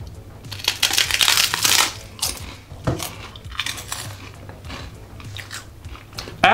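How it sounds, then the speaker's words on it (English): Crunchy bites into an apple cinnamon snack, loud and close, with several sharp crunches followed by chewing and rustling; no one talks. "Now listen to the crunch."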